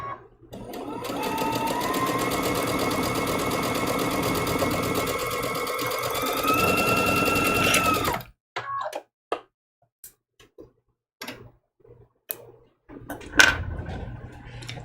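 A sewing machine whirs steadily up close for about eight seconds, then stops, followed by scattered clicks and small handling noises.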